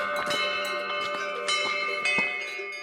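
Cowbell marked with a Swiss cross ringing in an Alpine setting, a series of clanging strikes with bright metallic overtones ringing on between hits, fairly close.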